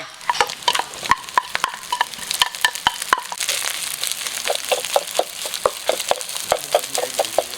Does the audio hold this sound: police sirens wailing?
no